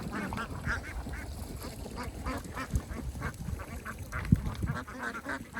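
Many ducks quack in a busy, overlapping chorus at moderate distance, with a few louder honks standing out.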